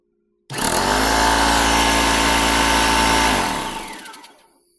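A Ridgid air compressor, just repaired after a broken drive belt, starts up with a loud steady motor drone that holds for about three seconds, then cuts off and winds down.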